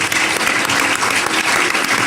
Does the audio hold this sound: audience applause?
yes